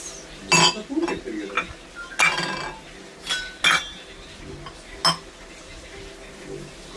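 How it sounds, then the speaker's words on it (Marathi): Coffee cups clink as they are taken out in a home kitchen, a few sharp, bright knocks scattered close by against a quiet background. "आता आपण घेतोय कप्स."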